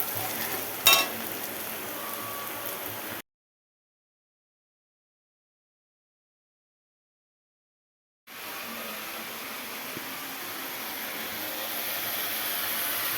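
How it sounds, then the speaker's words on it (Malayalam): Bitter gourd and onion sautéing in a pan give a steady, soft sizzle and hiss. It runs continuously before and after a silent gap in the middle, with a brief clink near the start and no talk. "പാവയ്ക്ക നന്നായിട്ട് വാടാൻ വേണ്ടി വെച്ചിരിക്കുകയാണ്."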